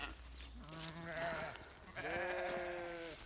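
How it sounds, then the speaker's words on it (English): Ewe lambs in a sheep pen bleat in two drawn-out, wavering calls, fairly close but soft against a quiet barn background, with no talking. "Most of these in here are my ewe lambs."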